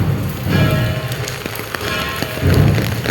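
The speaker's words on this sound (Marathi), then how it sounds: "पाऊस बघा" Heavy rain pours down outdoors, a dense, steady hiss with scattered nearby drips and splashes and no voices.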